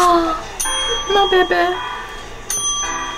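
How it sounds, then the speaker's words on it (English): Bicycle-style bell rung repeatedly in a bubble tea shop, its bright metallic rings starting and decaying again and again, loud and close, with brief speech in between. "Please stop ringing the bell."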